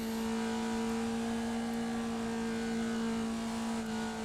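Racing car engine in a racing video game, held steady near full throttle as a loud continuous high drone with strong sustained tones and no talk.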